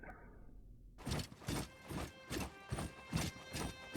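Horse hooves clip-clopping in the strategy video game Citadelum, a steady run of loud, evenly spaced hoof beats roughly twice per second, close and clear, with no talking.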